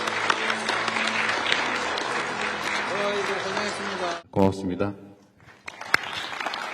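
Journalists applaud at a presidential press conference. Broad clapping runs for about four seconds beneath a voice, then fades to talking and near silence.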